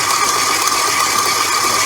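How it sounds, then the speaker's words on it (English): A KitchenAid stand mixer kneads bread dough, giving a loud, steady motor whine with a constant mechanical hum and slight rattle, unbroken and close with no voices. "the KitchenAid would tell you that's a no-no because they say to only run bread dough on speed 2"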